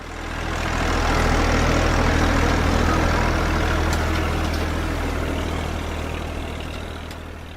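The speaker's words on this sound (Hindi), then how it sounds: "मैं समझ गई, ट्रैक्टर।" Tractor engine idling and running steadily, a loud continuous low diesel rumble that swells in and fades slightly, with no talking.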